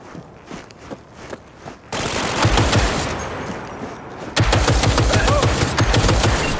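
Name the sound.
gunfire in Cyberpunk 2077 video game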